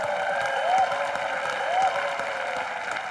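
A studio audience at a TV comedy show, Comedy Nights With Kapil, breaks into steady, loud applause that holds for the whole stretch, with a few whistle-like tones rising over the clapping.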